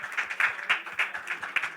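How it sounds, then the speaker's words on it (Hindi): Audience at a TV series launch event clapping, a brief burst of rhythmic applause with distinct individual claps, fairly close and lively. "जोरदार तालियां हो जाए सबसे पहले हमारी एनएबी"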